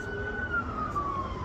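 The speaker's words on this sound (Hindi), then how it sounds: "आई थिंक सो, पुलिस या एम्बुलेंस है।" A police car or ambulance siren wails along a city street, its steady tone sliding slowly downward as it passes, with broadband traffic noise underneath and no voices.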